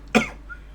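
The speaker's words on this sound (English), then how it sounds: "Sorry about the coughing." A single short, harsh cough bursts out near the mic and fades quickly into quiet; a game character's dialogue in World of Warcraft Wrath of the Lich King, undead storyline.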